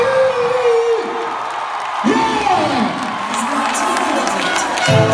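Concert crowd at a show cheering and whooping, with loud yells and a sustained roar of voices rising and falling, under a bright wash of applause.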